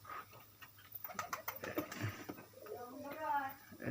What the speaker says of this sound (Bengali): এই পায়রাটা আছে গিরিবাজ,